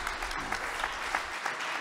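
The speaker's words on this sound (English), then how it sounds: "Big round of applause for Sibu Siso." Applause from an audience at a quiz show held in a shopping mall, a steady patter of many hands clapping at moderate volume without pause.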